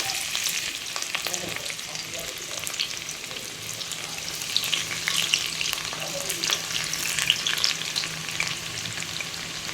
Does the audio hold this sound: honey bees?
no